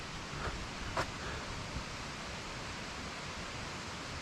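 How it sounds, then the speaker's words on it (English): A waterfall along a creek crossing on the Appalachian Trail makes a steady, even broadband rush, moderately distant and constant, with a couple of faint brief clicks early on and no talking. "Sounds like a waterfall."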